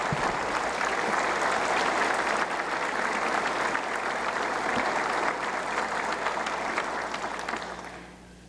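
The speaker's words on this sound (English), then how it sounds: "Let's give them a round of applause" Sustained applause from a large audience at a State of the State address, steady and full for about seven seconds before tapering off at the end, with no speech over it.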